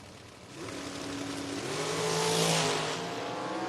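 A junior dragster engine at a drag strip revs up, holds a rising whine, then eases off the throttle and fades, heard from a distance with a faint announcer-style ambience.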